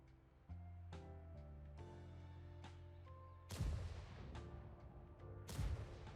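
Tank cannons fire during a competitive World of Tanks league match, with two sharp, heavy blasts breaking through over quieter background game tones and a low rumble that rolls on after each shot.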